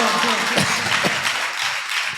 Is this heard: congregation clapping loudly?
yes